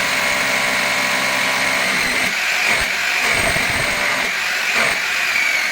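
Steady high-pitched mechanical whine of a power drill boring a hole while installing a western toilet flush tank, close and loud, with some grinding bursts midway.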